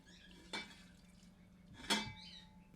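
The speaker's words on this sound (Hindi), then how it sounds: "कांसे की हांडी में पलट रहे हैं।" Soup contents of bones and broth tipped into a bronze pot, two brief metallic clanks with splashing about a second apart, close and quiet, with no talk.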